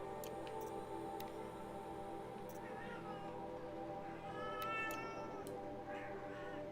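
A cat in the video game Horizon Zero Dawn meows a few times, drawn-out and whiny, set against a constant low droning background, with faint clicks scattered through.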